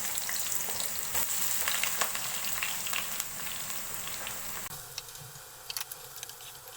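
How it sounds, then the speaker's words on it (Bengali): Onions frying in oil in a pan on the stove, a quiet continuous sizzle and crackle with occasional small pops and stirring scrapes, no talk. "পেঁয়াজ একটু ভেজে নেব।"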